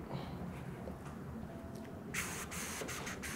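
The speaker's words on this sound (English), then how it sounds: "I have to bring it outside and spray it with my hose" A garden hose sprays water onto a large houseplant outdoors, quiet at first, then breaking into a louder hissing spray with brief bursts near the end.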